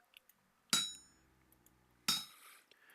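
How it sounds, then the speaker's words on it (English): Two sharp, ringing hammer strikes on hot metal at an anvil, each a loud metallic clang with a short decaying ring, spaced about a second and a half apart. "we're going to pound on it, see how the metal moves to the right"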